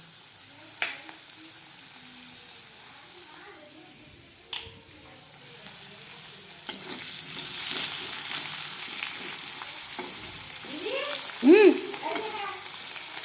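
Spice masala with onion and ginger paste frying in a pan for a Bengali fish dish, a steady sizzle that swells and grows louder partway through, with occasional clinks from stirring.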